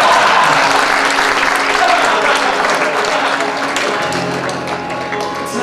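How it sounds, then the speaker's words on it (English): Wedding guests clap loudly and continuously near a stage during intro songs, a thick wash of hands with a sustained tone entering partway through and a few voices underneath. "You can clap."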